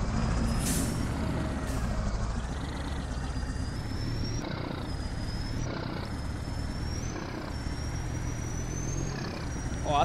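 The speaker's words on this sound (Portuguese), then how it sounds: "A troca de marcha." Gear changes of a 1938 Mercedes-Benz truck in Farming Simulator 22, a steady loud engine drone with a rising whine, broken by a sharp hiss near the start and brief dips in pitch as gears shift.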